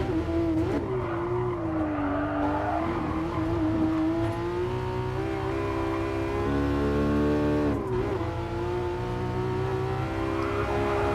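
A Porsche race car engine in a racing game league race, a loud steady high-pitched engine whine that climbs and dips with gear changes, close and continuous.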